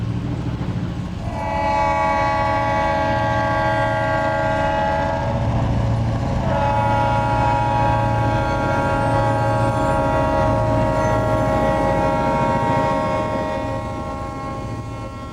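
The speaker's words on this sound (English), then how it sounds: "these are long and heavy mainline trains, some in excess of 100 cars" A long, heavy mainline freight train passes with a steady rumble and clatter of wheels while a multi-tone diesel horn sounds in long blasts, loud and nearby.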